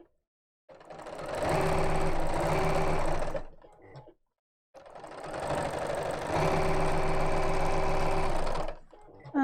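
Sewing machine stitching around a square: two sustained runs of rapid, even motor-driven stitching, each about three to four seconds, separated by a brief stop when the needle is left down, loud and close.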